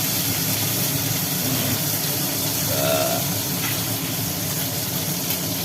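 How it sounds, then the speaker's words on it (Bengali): Pieces of hilsa fish fry in a pan with a continuous, even hiss of hot oil that stays close and steady throughout, with no voices. "মাছগুলো ভাজা হচ্ছে"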